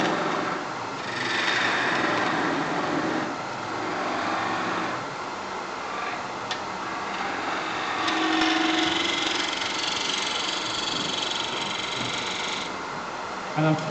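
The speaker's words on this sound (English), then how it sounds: "So at this stage, I'm doing a lot of scraping." A tool scraping wood on a wood-turning lathe, a steady whirring, rasping drone that runs continuously for the whole stretch at moderate, even loudness.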